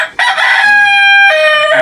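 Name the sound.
rooster crowing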